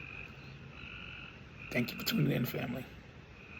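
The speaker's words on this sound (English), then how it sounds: "The frogs is out there chirping." Frogs croak outdoors at night in a short faint burst, partly under a voice talking close by.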